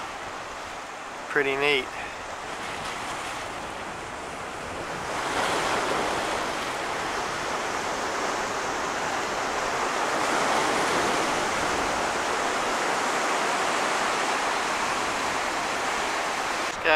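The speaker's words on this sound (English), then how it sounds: "Every once in a while you see some waves crash over it." Ocean waves crash over jetty rock at Crescent City, a broad rushing surf roar that swells after a few seconds and stays loud and steady, with a brief voice speaking early on.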